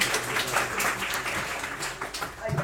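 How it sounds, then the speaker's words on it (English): An audience applauds after a public talk with Graeme Maxton at KIEF 2017, a steady spread of clapping filling the room for a couple of seconds with a voice faintly audible underneath. "Applause to you."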